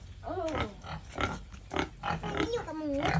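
Pigs on a storm-damaged farm grunt and oink repeatedly at close range, with voices talking between and over the animal calls.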